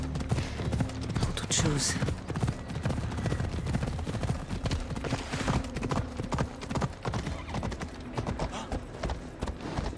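Horse hooves clip-clop steadily and loudly in Assassin's Creed Odyssey (Fate of Atlantis DLC) as the horse is ridden, with a voice talking over the continuous hoofbeats.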